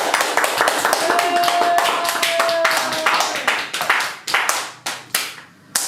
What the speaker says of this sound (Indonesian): ayo kita tepuk tangan untuk kita semua